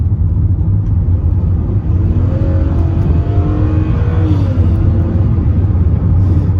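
A 1995 Mercedes SL320 R129 with 160k miles and some rust, its engine revving hard under acceleration, a loud close cabin drone with rising and falling rev sweeps throughout, no talking.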